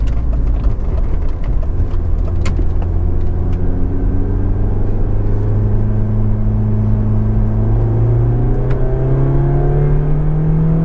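A 1994 BMW 318is E36 Class II motorsport race car pulls hard on a test drive, its engine note rising steadily as it climbs through the revs, loud and close with a rumbling undertone.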